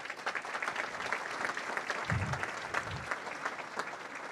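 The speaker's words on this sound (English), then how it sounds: "How about another round of applause?" Audience applause at a business awards ceremony, a steady wash of many hands clapping at moderate distance throughout, with no voices over it.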